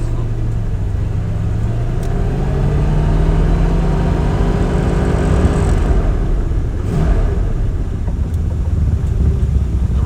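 A 1981 Ford Granada with failing front brakes driving along, its engine droning and rising in pitch as it accelerates over a steady loud rumble of road and wind noise, heard from inside the car without talk.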